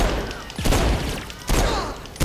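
Gunfire in the video game Saints Row 4: three loud, sharp bursts of shots, spaced about a second apart, over a steady bed of game noise.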